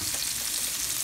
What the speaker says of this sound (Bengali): এই মশলার সাথে পেঁয়াজগুলোকে মিক্স করে নিয়ে এখন আমি এই অয়েলের মধ্যে দিয়ে ভালো মতো সেজে নেব